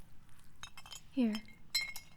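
A glass clinks a few times while being offered, in a fantasy sea witch shop setting; short bright chinks sit between and after a spoken voice.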